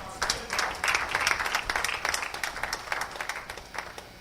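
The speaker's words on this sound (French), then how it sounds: "acclamez pour le Seigneur" Church congregation clapping together, a steady dense patter of many hands at moderate distance lasting throughout, with a few voices mixed in.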